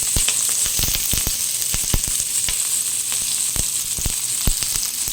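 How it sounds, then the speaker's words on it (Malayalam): Chopped onions sizzle steadily in hot coconut oil in a pan, a loud, close, continuous frying hiss broken by crackling pops throughout. "നമ്മളെടുത്ത് വെച്ചിരിക്കുന്ന വെളിച്ചെണ്ണ ഒഴിച്ച് ഇതിലേക്ക് നമ്മൾ അരിഞ്ഞു വെച്ചിരിക്കുന്ന സവാള ഇട്ട്"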